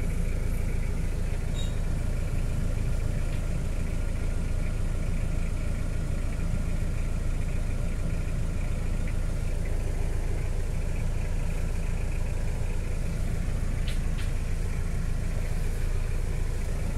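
A motor engine idles with a continuous low rumble, steady and unchanging throughout, with a few faint clicks in the background.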